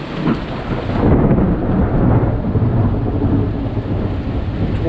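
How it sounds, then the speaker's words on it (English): Loud rolling thunder rumbles through a city thunderstorm during tornado sirens, rising into a heavy low roar over steady rain. "You got lightning, thunder."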